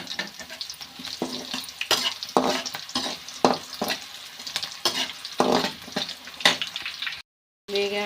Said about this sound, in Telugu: పొడవుగా కట్ చేసుకున్న పచ్చిమిర్చి వేసుకొని కొద్దిగా 1 నిమిషం వేయించుకోవాలి. ఇప్పుడు కొద్ది కరివేపాకు వేసుకోవాలి.